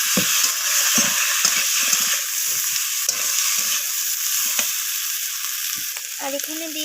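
Garlic and ginger paste fry in hot oil with vegetables for a Bengali rohu fish curry, a bright continuous sizzle punctuated by repeated spatula scrapes and taps against the pan.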